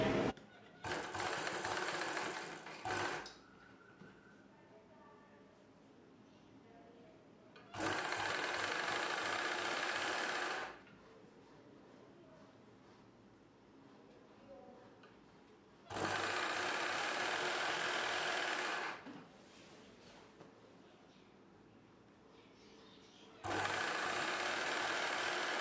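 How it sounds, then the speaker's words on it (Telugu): A sewing machine stitches folded petticoat fabric for a saree petticoat in four separate loud bursts of steady whirring, with quiet gaps between them. "ఈ రెండు ఫోల్డింగ్స్ ని కలిపి ఇలా పెట్టి కుట్టు వేసుకోవాలి."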